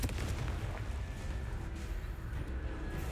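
In the Hogwarts Legacy video game, a Confringo spell blast gives a heavy, rumbling explosive burst that rolls on as a dense, sustained roar, loud and close with no speech.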